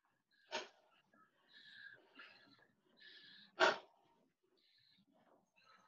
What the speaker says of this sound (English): I'm glad to hear you guys breathing.